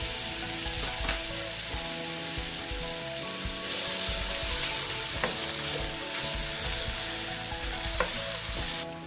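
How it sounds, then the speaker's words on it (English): A sliced onion sautés in butter in a pan, a steady loud sizzle with occasional stirring clicks running unbroken throughout, no voices. "Put 1 sliced onion into the pan and saute until it changes color."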